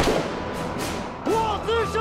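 Rifle gunshots fired on a standing-fire command during military training: several booming reports in quick succession with echoing tails, while a voice speaks over them.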